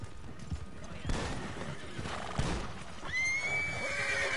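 Horse hooves clip-clop in the Red Dead Online video game, followed by a loud drawn-out whinny in the final seconds, the thuds spaced unevenly and close up.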